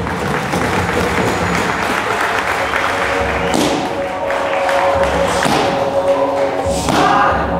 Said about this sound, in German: Ruhig in die Mitte. Und Applaus hier.